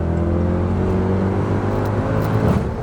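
A Mercedes C63 AMG is driven hard around Trafford Park, its engine holding a loud, steady drone heard close up, with a slight surge near the end and no voices.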